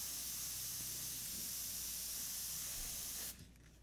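Airbrush spraying a light mist of heavily reduced green-brown paint, a steady close airy hiss that holds for about three seconds and then cuts off.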